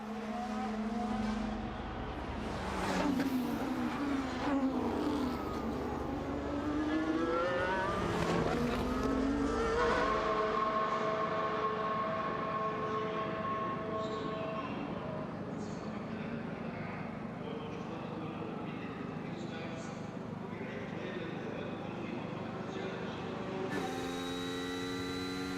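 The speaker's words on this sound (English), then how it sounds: "enjoy the natural sounds that you're hearing from the Bahrain International Circuit" Formula 1 cars roar past one after another at Bahrain International Circuit during 2025 practice, engines rising and falling in pitch as they pass close by, loud and continuous throughout.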